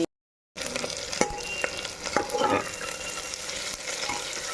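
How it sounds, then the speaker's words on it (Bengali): Chopped onion frying in a pan, a steady broadband sizzle with a few sharp clinks of stirring, continuous after a brief silent start, no voices. "পেঁয়াজটা একটু ভাজা ভাজা হতে থাকুক ভালো করে"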